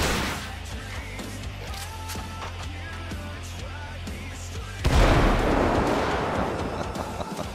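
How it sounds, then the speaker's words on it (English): In GTA V with a modded weapon sound pack, a rocket launcher fires with a sudden loud blast and a rushing roar that carries on afterward, preceded by game music and ambient noise. "Let's try the rocket launcher."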